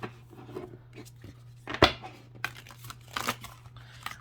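Oracle cards from a deck being shuffled by hand, giving soft scattered papery riffles and rubs with one sharper snap near the middle, under a steady low hum, quiet and close.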